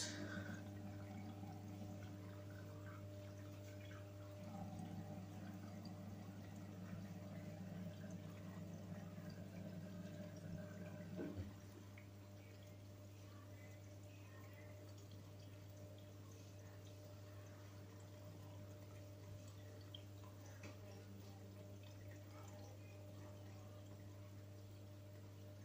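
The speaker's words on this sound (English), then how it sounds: "Final rinse." A Beko washing machine filling with water for its final rinse, a constant low hum under gurgling, pouring water that quietens after about eleven seconds into a softer trickle and drip.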